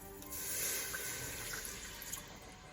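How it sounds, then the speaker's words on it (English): Water pouring from a cup into a pot of chili made with ground turkey and venison, a steady soft splashing stream lasting a couple of seconds, heard close and fairly quiet with no talking. "for this step, I am going to start off with a cup of water"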